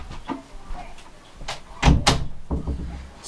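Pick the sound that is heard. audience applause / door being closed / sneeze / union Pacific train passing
door being closed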